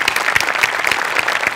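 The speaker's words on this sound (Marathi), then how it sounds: "वा जोरदार टाळ्या." A studio audience at a Marathi comedy show breaks into loud, dense applause, steady rapid clapping from many hands close by, with no voices over it.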